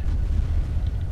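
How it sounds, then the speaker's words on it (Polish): A grenade blast in the shooter game F.E.A.R. Extraction Point: a loud, deep, rumbling boom that carries on through the whole short moment, with no voices over it. "Jeszcze jednego granata tam rzucimy."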